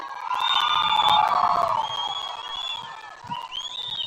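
Political rally crowd clapping and cheering loudly in protest, a dense roar of voices with whoops and whistles that swells early then thins out.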